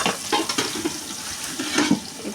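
Onions sizzle and crackle in a hot pot, with occasional stirring scrapes against the metal, close and moderately loud.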